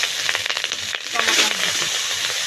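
Cumin seeds and dried chillies hit hot oil in a pan, a dense crackling sizzle with sharp popping bursts, close and loud, briefly dipping then swelling again.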